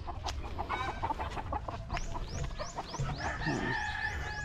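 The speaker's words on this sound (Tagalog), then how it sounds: "Tapos ito yung isang range natin. Ayan, mga stag na early bird." Young gamefowl stags cluck in an outdoor range on a Philippine poultry farm, with repeated close, short clucks and chirpy calls over a low background rumble.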